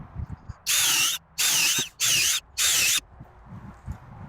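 A power drill fitted with a 5/16 bit bores about an inch deep into a log for mushroom growing, in four whining bursts of close, loud drilling separated by short pauses.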